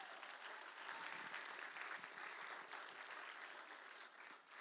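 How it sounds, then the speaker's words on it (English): Sustained applause from a large audience at a children's charity benefit auction, a dense even wash of clapping that holds steady throughout and dips slightly near the end. "Can we get a big round of applause for those gifts?"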